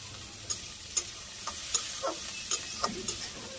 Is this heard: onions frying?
yes